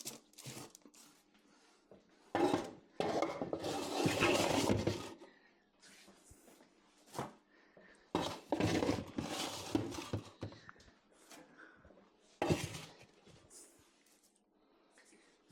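Baking trays slide and scrape into a Chandley Pico Plus oven in three separate bursts of clattering, rasping metal, with quieter handling noises between them.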